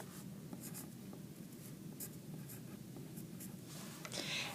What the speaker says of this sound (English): I'm going to write this decimal down